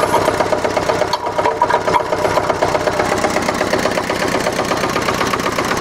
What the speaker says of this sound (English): So this tractor has plenty of power.